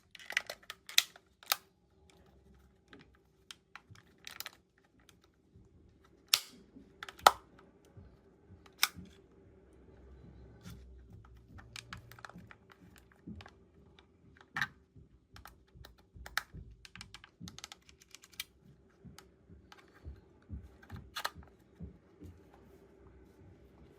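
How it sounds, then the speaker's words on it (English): Plastic housing clips on a DJI RC-N3 drone remote controller snap into place one after another, giving sharp, close, irregular clicks and light taps over near silence. "Press the housing clips back into place around the perimeter."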